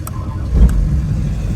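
A second engine on a custom-built 40,000-pound Monstermax truck fires up, with a short loud low rumble swelling at startup and then settling into a steady close idle.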